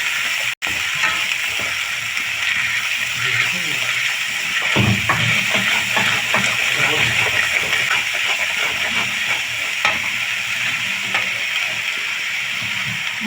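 Jackfruit and potato fry in a pan for a vegetarian Bengali-style dish, with a continuous hissing sizzle and intermittent scraping as the pieces are stirred.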